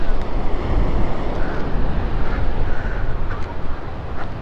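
Ocean waves surge and crash nearby in irregular swells on the Real, Quezon coast, mixed with gusty wind buffeting the microphone.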